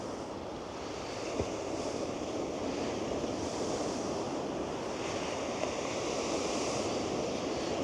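Steady roar of surf washing in continuously, broad and rushing, with a little wind buffeting the microphone; no voices.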